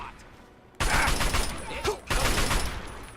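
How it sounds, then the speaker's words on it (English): Sustained bursts of assault rifle fire in Fallout 3 start abruptly after a quiet moment, a loud, dense rattling fusillade with a short break midway, then continuing to the end. "Let's use our assault rifle."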